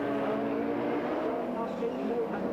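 Audi rallycross car from 1991 sliding wide through a corner, its engine droning and straining at close range while a commentator's voice runs over the top throughout.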